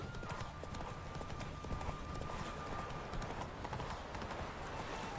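A horse gallops in The Witcher 3: Wild Hunt, its hooves drumming in a steady fast clip-clop that carries through the whole stretch under a dense wash of game ambience, with no talk.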